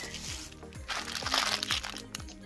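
A thin plastic bag with a bow tie crinkles and crunches as it is handled up close, in several quick rustling bursts that get louder midway.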